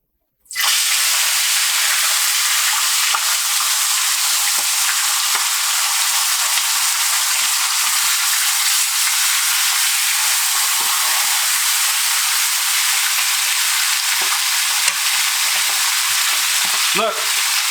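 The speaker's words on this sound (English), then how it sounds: "let's fry it" Unfloured tilapia fries in hot peanut oil with a loud, dense, continuous sizzle that erupts suddenly and holds steady close up, with faint crackles and a brief clatter near the end.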